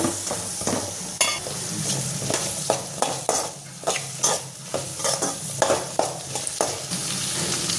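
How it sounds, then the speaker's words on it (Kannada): Chopped thick onions frying in a pan, a steady sizzle broken by repeated scraping stir strokes of a spatula at a close, even rhythm, with no talking. "ದಪ್ಪು ಈರುಳ್ಳಿನ ತೊಗೊಂಡಿದ್ದೀನಿ ನಾನು. ಈರುಳ್ಳಿನ ಸ್ವಲ್ಪ ಫ್ರೈ ಮಾಡ್ಕೊಳ್ಳೋಣ."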